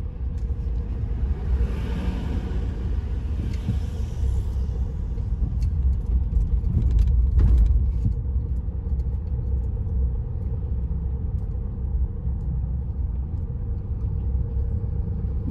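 Car driving with a steady low road and engine rumble heard from inside the cabin, rising slightly around the middle, no talk.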